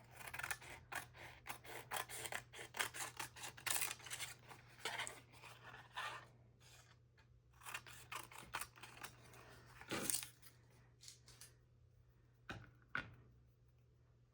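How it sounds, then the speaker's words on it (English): Scissors trimming the corners of a brown paper mailer: rapid close snipping and rustling paper, then a few separate, sharper cuts toward the end, quiet with no talking. "I wonder if we should just turn it into a tag and just cut the corners."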